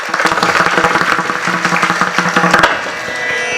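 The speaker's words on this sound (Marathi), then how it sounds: "जोरदार टाळी एकदा जोरदार" A crowd at a devotional kirtan performance breaks into loud, vigorous applause, sharp rhythmic claps building and then tapering off into a quieter murmur near the end.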